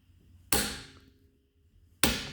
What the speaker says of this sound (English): clicked at 160 foot-pounds